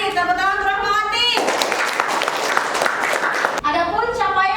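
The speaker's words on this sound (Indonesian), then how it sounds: "Tepuk tangan untuk Rahmawati." A burst of classroom applause, many hands clapping together for a few seconds, with children's voices talking before and after.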